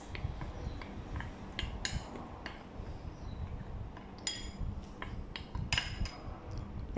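Corn flour, salt and white pepper are stirred in a bowl, producing light, irregular clinks and scrapes of a utensil against the dish, fairly close and quiet, with no talking.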